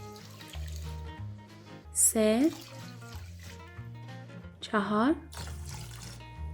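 Measured cups of lukewarm water are poured onto rice in a Persian kitchen, two short splashing pours standing out under steady talk from a speaker.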